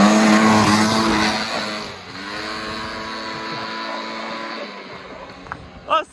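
A garage's new buggy is driven fast through a bend, its loud engine roaring near the listener for several seconds and then easing off, with a couple of short sharp bursts at the end.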